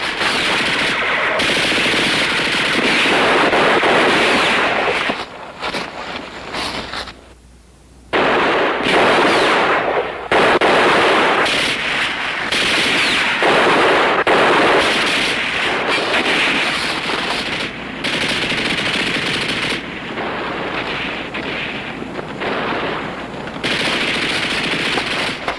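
Sustained machine gun fire and scattered gunshots in a television war drama battle scene at a bridge, dense and loud bursts running almost continuously with one brief lull, no talk.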